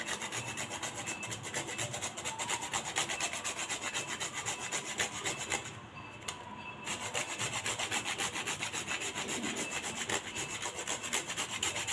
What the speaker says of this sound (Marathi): थोडीशी जायफळ किसणार आहे मी